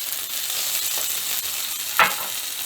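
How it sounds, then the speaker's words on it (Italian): Cod fillets sizzle steadily in hot extra virgin olive oil in a pan, a continuous bright frying hiss with a brief louder crackle near the end. "aggiungiamo dell'olio extravergine di oliva e andiamo a rosolare i nostri filetti"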